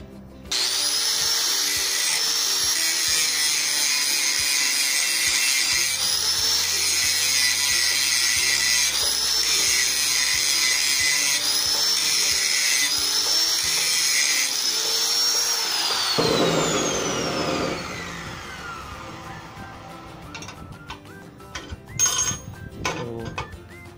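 A power tool grinds a bevel onto a steel flat bar, a loud continuous high whine with shifting pitch for most of the time, then it spins down and leaves quieter workshop clatter.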